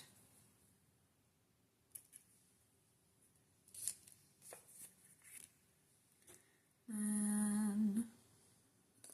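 Scissors snip thread after a double-knotted row of stitches, giving a few faint, scattered clicks and rustles at close range, followed by a brief, louder whirring burst near the end.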